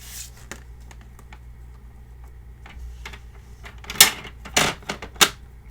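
A paper trimmer slicing through craft paper, heard as a few faint ticks followed by three or four sharp, close swishing cuts near the end.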